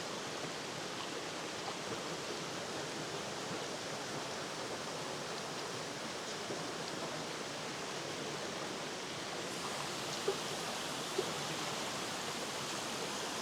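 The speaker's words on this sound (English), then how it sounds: "Oh, this rain's a nightmare." Steady rain falls at a waterfall outdoors, a dense continuous hiss of water and spray with no clear break, holding even across the whole stretch, with a couple of faint ticks late on.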